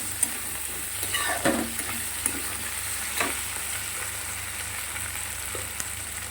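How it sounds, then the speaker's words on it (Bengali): Tomato, onion, garlic, potato and soybean fry in a pan with a steady close sizzle, while a few stirring scrapes and knocks sound over about six seconds with no talking. "এটা বেশ একটু লাল লাল করে ভেজে নেব।"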